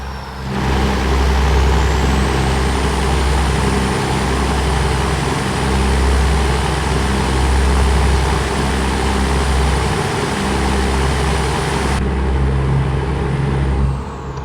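A truck engine in the video game American Truck Simulator drones steadily and loudly throughout, a low rumbling idle-to-cruise hum with a faint high whine on top, no talk.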